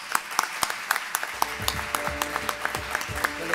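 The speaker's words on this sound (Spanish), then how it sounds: "Fuerte el aplauso." Applause from an audience at an awards ceremony, many hands clapping in a dense, lively burst that starts sparse and quickly fills in, fairly distant and moderately loud.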